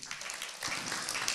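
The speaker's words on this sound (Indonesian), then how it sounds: "Tepuk tangan untuk Pastor Yopi" Brief burst of applause from a church congregation at a Sunday service, scattered clapping swelling into a fuller round, fairly faint and distant.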